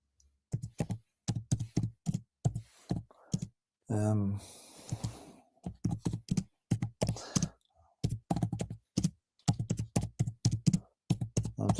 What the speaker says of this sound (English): typing a message here.